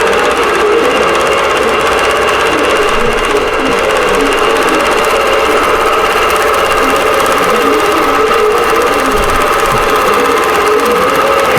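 A computerized quilting machine stitches an appliqué pattern, a steady loud mechanical whir with rapid needle rhythm running continuously, close up and without talk.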